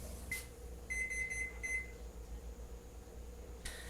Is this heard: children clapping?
no